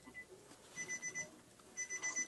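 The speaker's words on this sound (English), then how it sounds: "it's beeping sound going on. Oh, that was my car door." Faint, repeated electronic beeping from a car door warning, in short pulsed bursts with a pause between two clusters, heard distantly over a call.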